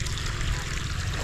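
Water gushes from a PVC pipe in a steady, close, full-bodied rush that holds level for a moment with no pauses.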